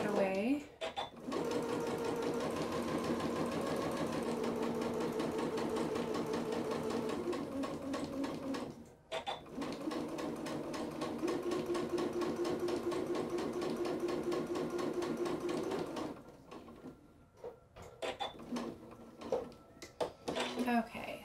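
A sewing machine runs steadily through quilted fabric for slipper soles, a continuous close mechanical whir with brief pauses and a short stop-start near the end.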